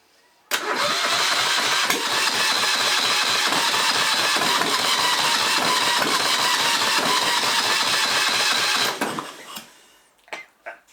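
A Yanmar marine diesel engine cranks and catches, then runs at a steady rapid chug for several seconds before cutting off abruptly, followed by a few faint clunks.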